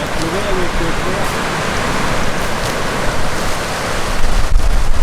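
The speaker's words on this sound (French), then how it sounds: "je suis désolé pour le vent, hein, les amis." Strong wind buffets the microphone outdoors at night, a steady loud rushing roar that swells near the end, with faint talking buried underneath.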